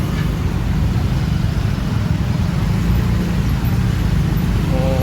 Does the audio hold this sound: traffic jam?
yes